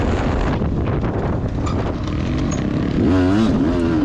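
An enduro dirt bike engine revs during a sprint enduro race on a motocross track, heard loud and continuous under heavy wind buffeting, with a rising and falling whine near the end.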